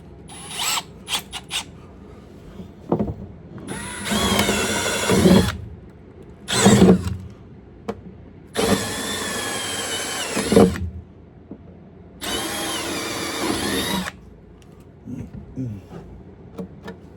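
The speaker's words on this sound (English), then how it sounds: "Now we're going to take a 3/16 drill bit for them holes that we just did" A power drill with a 3/16 bit whirs in several bursts of a couple of seconds each, enlarging holes in the metal bed of a 2023-2026 Ford F250/F350/F450 pickup, with clicks and handling noises in the pauses between.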